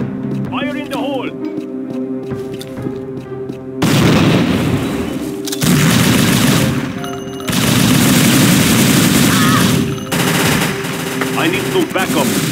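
Gunfire and a grenade blast in the tactical shooter Unreal Tournament Tactical Ops, loud sustained bursts of shooting and booms layered with game noise and shouted voices throughout.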